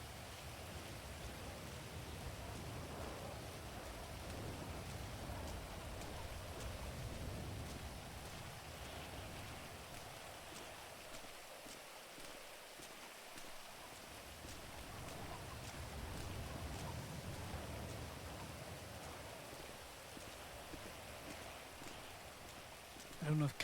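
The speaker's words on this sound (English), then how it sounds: "I've turned everything up because the rain is so loud" Heavy rain pours steadily and loudly throughout, a dense continuous hiss close by with no break.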